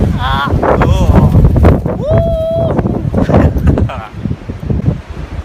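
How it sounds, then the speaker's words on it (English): Strong wind gusting outdoors on a very windy day, roaring steadily with a brief whistling tone partway through, while people talk over it throughout. "Wow, listen to the wind."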